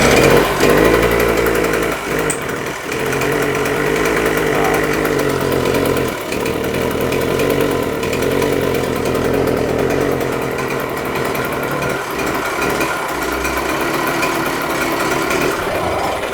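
A 48-year-old Yamaha DT100 100cc two-stroke motorcycle engine runs close by with a steady buzzing, raspy idle and occasional brief dips, leaking exhaust from the base gasket.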